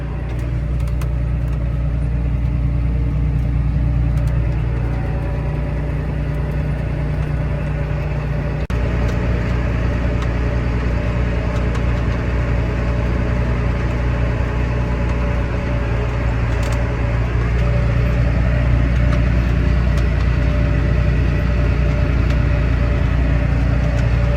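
A Challenger tractor pulling a 714 chisel plow through a field for fall tillage, its engine a steady, loud low drone with a constant hum, heard up close and continuous throughout without speech.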